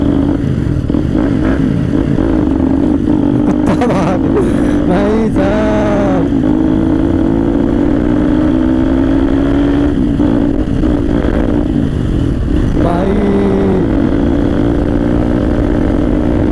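Motorcycle riding along a village road, its engine droning steadily and loudly throughout with rises and dips in revs, close to the rider and heard alone.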